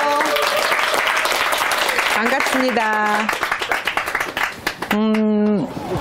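Audience applause at a university business lecture, a dense, steady wash of clapping that fills the room while a speaker's voice greets the crowd over it and the clapping fades toward the end.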